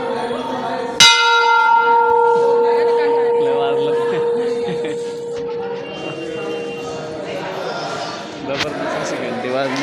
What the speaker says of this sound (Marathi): जबरदस्त अशी घंटी वाजली.